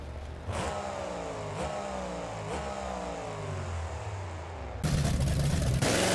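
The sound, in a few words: classic Chevrolet monster truck engine revving, BeamNG Drive video game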